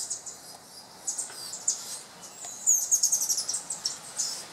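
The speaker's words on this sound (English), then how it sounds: "And listen to the birds." Birds chirp and tweet in quick, high bursts in a blooming Malay apple tree, with a run of rapid repeated notes near the end, moderately close and with no talking.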